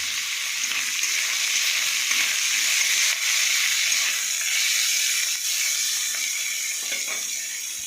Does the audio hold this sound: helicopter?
no